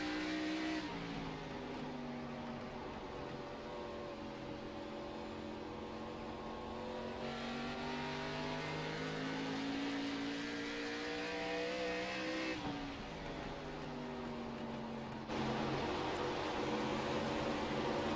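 Race cars on the track at Lucas Oil Raceway, engines droning and rising through gear changes in overlapping passes, a continuous moderately loud roar with no speech heard.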